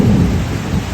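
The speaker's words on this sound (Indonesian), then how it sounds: "ini kondisinya hujan ya," Heavy rain pours steadily with a deep, rumbling undertone like thunder, loud and continuous with no pauses.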